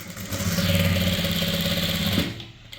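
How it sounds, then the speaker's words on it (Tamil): A sewing machine stitches a fall onto a saree with a fast, steady mechanical whir close by that runs for about two seconds before winding down and stopping. "இப்போ இதுக்கு மேலேயும் தையல் போடுவோம்"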